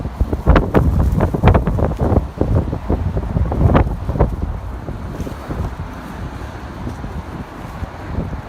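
Strong, gusty wind batters the microphone in loud, irregular thumping buffets, heaviest in the first few seconds and then settling into a steadier rushing noise.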